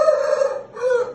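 A rooster crows once in a long, loud, sustained call that sags briefly midway, from a fighting-breed champion cock, close and alone with no talk.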